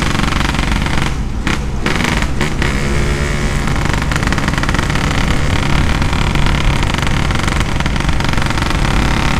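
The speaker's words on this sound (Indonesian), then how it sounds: "Ya kayak gini loh suaranya." Yamaha RX-King two-stroke motorcycle with an aftermarket exhaust, revving close up in a loud, raspy, continuous blare, with a few brief sharp bursts and dips early on before it settles into a sustained run.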